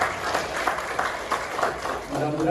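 An audience at a business seminar claps together in a steady, brisk round of applause with rhythmic peaks, while a speaker talks over it.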